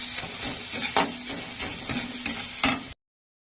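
Fish curry fries in a pan as coriander leaves are stirred in, giving a constant close sizzle with the rhythmic scrape of a spoon and two sharper knocks against the pan before it cuts to silence.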